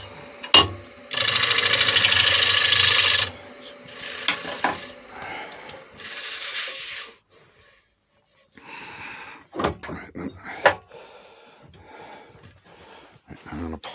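A wood lathe cutting a Spanish chestnut bowl, with bursts of loud hissing tool scraping broken by pauses, knocks and quieter handling noises, and someone talking in between.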